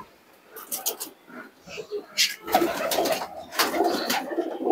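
Pigeons of the bodleje breed coo in their loft, soft repeated calls scattered through the stretch and partly overlapped by someone talking nearby.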